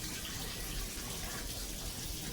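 Warm water at 115 degrees pours into a bowl for whole wheat bread dough, a steady, even rush of splashing water that runs unbroken from start to finish with no voices.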